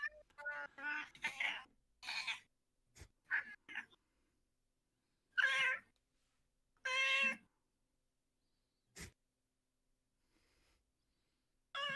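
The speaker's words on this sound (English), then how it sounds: "Cat. I hear a cat." A cat meows several times nearby, each call a short, distinct cry separated by quiet gaps, with a couple of faint clicks between them.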